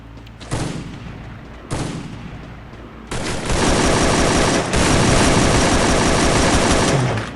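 Rapid bursts of gunfire from the Free Fire video game, loud and close, with a couple of short single volleys followed by a sustained stretch of continuous automatic fire.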